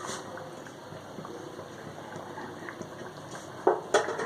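Beef karahi simmers in a pan, a soft continuous bubbling and sizzle at low level with two brief louder clatters near the end, no talk.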